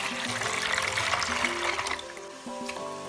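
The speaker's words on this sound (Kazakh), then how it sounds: "Суды құямыз." Water is poured into a bowl of bread dough mixture with salt, sugar, oil and yeast, giving a short, close trickling splash over light background music.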